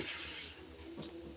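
Water is poured into a cooking pot for roasted-coconut sambar, a soft, faint, steady pouring hiss that eases off partway through.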